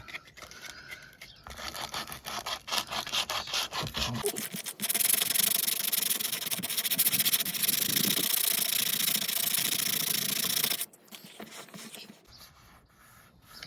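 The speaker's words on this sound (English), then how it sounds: "I'm going to get some sandpaper now and then give it a score up" Coarse 40-grit sandpaper rubs back and forth on a Lay-Z-Spa inflatable hot tub liner, a harsh continuous scratching that grows louder and steady for several seconds, then stops abruptly.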